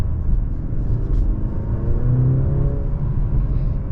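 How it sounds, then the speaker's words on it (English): Steady low engine drone heard from inside a 2022 Mercedes C-Class in sport mode, with a faint rising turbo whine layered over the rumble throughout. "you could definitely hear the turbo inside the car"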